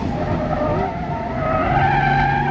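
Tires of a mint green Porsche 964 squeal in a long, loud slide while the car drifts, with the engine droning steadily beneath the screech.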